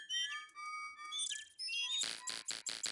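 Toucan squawks from the adventure game Indiana Jones and the Fate of Atlantis: bright whistly chirps at first, then a run of loud, harsh squawks pulsing rapidly, with no talk.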